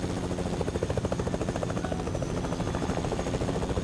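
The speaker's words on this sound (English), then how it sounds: "There's another helicopter over here." Helicopter in the video game Fortnite, its rotor chopping in a fast steady pulse over a dense engine whine, loud and close throughout with no talk.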